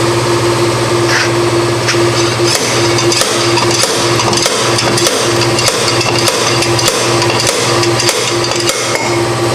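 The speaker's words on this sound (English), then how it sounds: "Gonna slide hammer it off" Rapid metallic clanking of a slide hammer striking repeatedly to pull off a rear brake drum on a 2000 Ford Focus, loud and close, over a steady mechanical hum.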